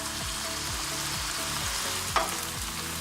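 Vegetables and sauces such as oyster sauce, liquid aminos and fish sauce sizzle steadily in a pot for egg roll in a bowl, with rhythmic scraping strokes of folding and one sharper clack near the end.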